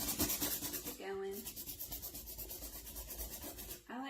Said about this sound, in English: I like to go up and down with my sanding and the distressing